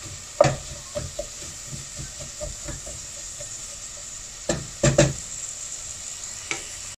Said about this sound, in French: Et on va laisser revenir jusqu'à avoir des oignons un petit peu fondants.